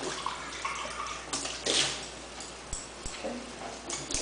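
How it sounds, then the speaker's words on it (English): Water runs through a hookah stem to rinse it, a splashy, bright running stream broken by a few sharp knocks and clunks, close by and fairly quiet. "Run some more water through our stem to rinse it."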